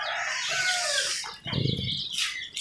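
Joper chicks, four days old, chirp busily while feeding in a small pen. The shrill peeping comes close and dense, in overlapping bursts with a brief dip in the middle.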